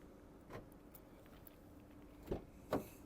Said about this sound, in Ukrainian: Центральний замок закриває, відкриває, всі двері закриті.